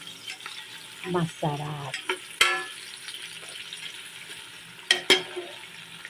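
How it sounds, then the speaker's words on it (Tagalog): Garlic and onion sautéing in a pan for beef caldereta, with a soft sizzle and several sharp stirring scrapes and clinks of a spatula against the pan, and a brief spoken word partway through. "ginisa na natin ang bawang at sibuyas"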